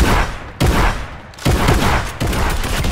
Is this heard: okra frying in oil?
no